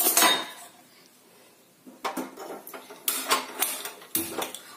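Metal cookware clatters as a pressure cooker is set onto a gas stove while making carrot soup, with a few sharp clinks and knocks in the second half after a quieter start.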